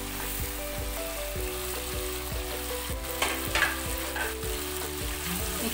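Half of the fried onions are stirred through a Hyderabadi-style chicken tikka biryani mixture in a pan, a dense steady sizzle with repeated scraping strokes and a low, regular mechanical hum underneath.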